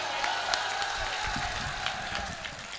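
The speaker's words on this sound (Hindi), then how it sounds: "एक बार जोरदार तालियां बजाइए भाई।" Audience applause at a Banaras mushaira poetry gathering: steady, dense clapping from a crowd, fairly loud and continuous throughout, with no talk over it.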